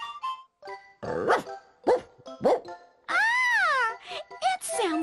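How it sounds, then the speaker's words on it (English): Cartoon-style dog barking in a children's program, a series of short bright yips and barks spaced irregularly, followed by a long rising-falling howl-like call and a few more quick barks, close and clear. "It sounds like barking."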